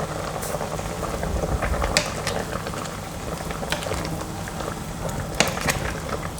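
A pot of braised pork leg with pickled mustard greens simmers over medium heat, giving a soft continuous bubbling with scattered small pops and ticks at low to moderate level.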